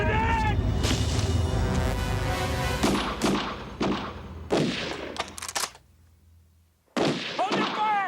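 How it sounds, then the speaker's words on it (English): Gunfire from a film's federal siege breaks out as a series of sharp, loud cracks in irregular bursts, mixed with shouting voices and then a brief lull before another burst. "then they commenced firing. We're taking shots."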